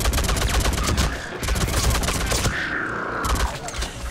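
Rapid bursts of automatic gunfire in Mass Effect 3, sharp repeated shots in dense volleys with a brief lull in the middle, loud and close in a sci-fi firefight.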